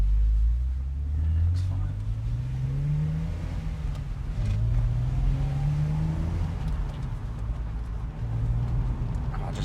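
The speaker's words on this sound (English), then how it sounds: "I just love that BMW flat six sound." A BMW Z4's six-cylinder engine revs repeatedly, rising and falling in pitch with a deep growl, while people talk nearby.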